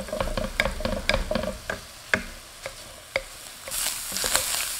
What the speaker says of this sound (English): we're gonna start cooking up some of this sausage